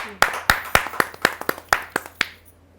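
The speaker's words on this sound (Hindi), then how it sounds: "जोरदार तालियों से स्वागत कीजिए डॉक्टर संदीप शर्मा जी।" A few people at a kavi sammelan clap to welcome poet Dr. Sandeep Sharma, about ten distinct, evenly spaced claps in a slow rhythm, close and clear, then fading to quiet.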